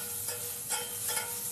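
Cumin and sliced onion fry in a pan for Indian cooking, a steady close sizzle with a few louder hissing swells and faint stirring, no voices.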